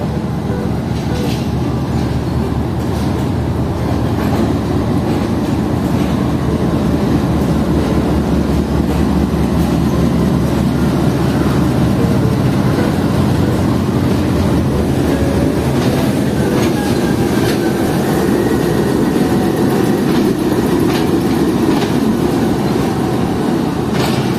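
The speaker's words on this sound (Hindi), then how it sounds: "फरीद एक्सप्रेस ने चलना शुरू कर दिया है।" Farid Express passenger train pulling out of Rohri Junction station, a loud continuous low rumble of rolling stock with faint wheel clatter and occasional high squeals, building gradually without any voices.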